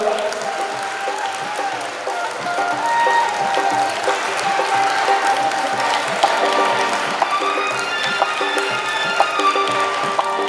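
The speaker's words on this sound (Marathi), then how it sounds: "जरा टाळ्या वाजून त्यांना चेअरअप करायचं आपण" An audience at a homemaker contest show claps and cheers on the contestants, with continuous crowd applause, scattered sharp claps and bustle, and voices mixed in throughout.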